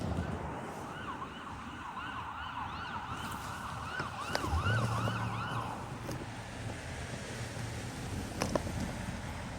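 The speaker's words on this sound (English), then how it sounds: "Literally every time I come out here, I have to hear those sirens." Emergency vehicle sirens wail near a railroad line in Berea, Ohio, their rising and falling tones sweeping repeatedly at moderate distance over steady outdoor rumble, with a low engine drone joining midway.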